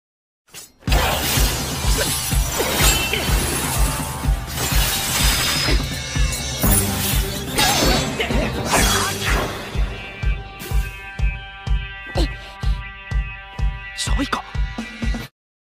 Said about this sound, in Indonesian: Mendadak gedung di sekitar hancur mengenai kendaraan Chaika dan kawan-kawan.